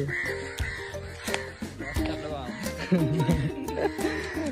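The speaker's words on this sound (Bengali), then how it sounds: "কত সুন্দর সব পাখি" Crows cawing among other birds around a village with mango trees, a few harsh calls at moderate distance heard under and between people talking.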